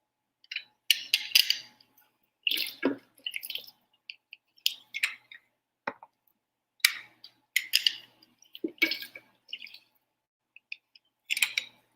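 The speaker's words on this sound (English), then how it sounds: "So let me cut this lime and squeeze it right into here." A fresh lime being cut and squeezed by hand into a container: a series of short, close, wet squishes and drips in irregular bursts separated by brief silences.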